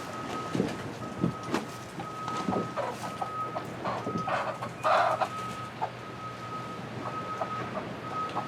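Chickens cluck and murmur in a backyard chicken run, with soft repeated clucks and a couple of louder squawks over a faint steady hum, heard from close by.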